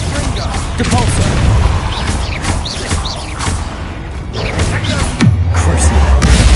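A Depulso spell in Hogwarts Legacy lands as a dense booming impact amid continuous loud combat noise, with a heavy low thud near the end.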